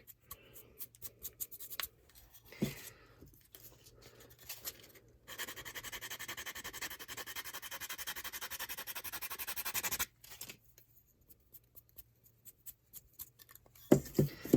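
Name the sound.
sanding wood by hand with sandpaper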